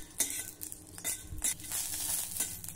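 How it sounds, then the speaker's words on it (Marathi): Green chillies roast in oil in a pan, a soft sizzle under clattering stirring and scraping against the pan, with a few louder knocks, close by and without speech. "यावर थोडं तेल घालू आणि ह्या मिरच्या देखील आपण भाजून घेऊया"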